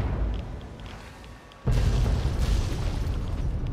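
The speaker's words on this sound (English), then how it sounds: "Explosions!" A sudden deep submarine explosion in the video game Fallout 3 booms partway through, giving way to a sustained loud rumble and crackling debris that fills the rest of the clip.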